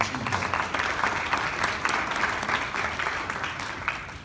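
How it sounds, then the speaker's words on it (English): A room full of people claps steadily at a school district community meeting in a high school, a dense patter of applause that holds throughout and tapers slightly at the end. "give yourself a round of applause if you've achieved that"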